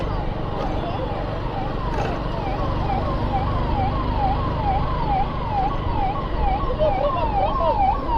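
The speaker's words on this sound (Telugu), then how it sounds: "అంబులెన్స్ రా, అంబులెన్స్" Ambulance siren wailing continuously on a road in Hyderabad, its rising and falling tone repeating steadily over traffic rumble and moderately loud throughout.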